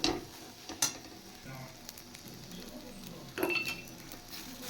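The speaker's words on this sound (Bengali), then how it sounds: "এবার চিনিটা পুরো গলে যাওয়া পর্যন্ত আমি এটা নাড়তে থাকব।" Sugar being stirred in a pan while preparing a singhi fish dish, with a soft sizzle and a few faint clinks of a utensil against the pan, quiet and close, no talking.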